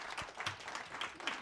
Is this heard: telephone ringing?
no